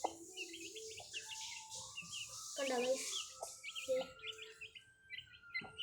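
Chicken chicks give repeated high, thin chirps, fairly close, under a person talking.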